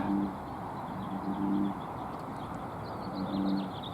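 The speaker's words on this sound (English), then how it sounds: "Oh, there's a sparrow. I hear you." A small bird chirps in short repeated bursts in the open outdoors, faint and somewhat distant, with soft low cooing phrases recurring beneath it.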